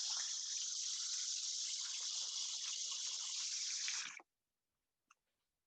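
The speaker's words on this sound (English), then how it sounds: "throw some water on this" Tap water running into a cooking pot as a steady, bright hiss that cuts off after about four seconds, followed by a single small clink.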